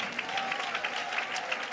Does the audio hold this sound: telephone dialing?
no